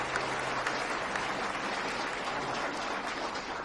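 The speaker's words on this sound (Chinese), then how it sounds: "掌声有请。" Applause from a seminar audience fills the space, a continuous patter of many hands clapping at moderate volume, steady from start to finish without speech over it.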